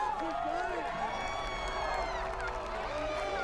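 Crowd cheering and whooping from a TV show, a steady wall of excited voices with some clapping, loud and continuous throughout, with talk mixed into the roar.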